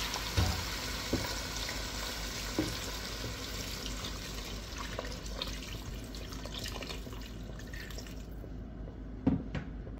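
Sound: pouring water over chicken for curry

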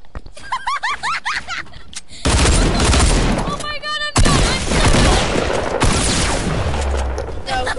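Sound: gunfire in a video game

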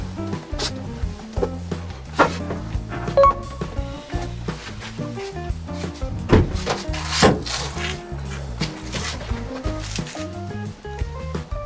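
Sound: prying off car back door interior trim panel

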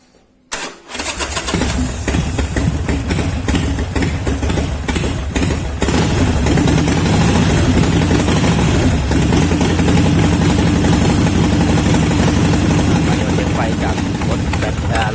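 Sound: car engine started and idling

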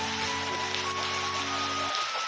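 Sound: rain falling

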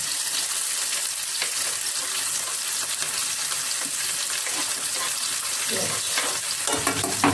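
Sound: frying garlic, onion and green chili in oil with cumin

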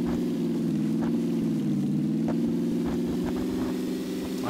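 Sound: vehicle being driven in video game PUBG

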